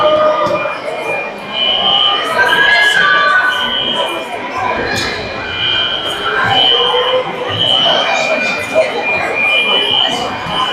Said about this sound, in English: The fire alarm has gone off again.